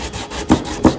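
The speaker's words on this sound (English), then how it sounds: "we've got a sanding block here" Two short, scratchy strokes of a sanding block rubbing against a wooden window transom, close and distinct, with a brief quiet gap between them.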